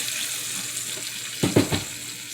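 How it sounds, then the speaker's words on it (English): Water is poured into flour in a pan to make gravy for Southern-style green beans, a short splashing burst arriving after a quiet, hissing background. "I'm just going to add some water. This water and that flour are going to come together"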